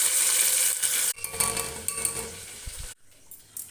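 Garlic and two dried red chillies frying in hot oil for dhaba-style dal, a bright sizzle up close with a spoon stirring and scraping the pan, the sizzle dying away near the end.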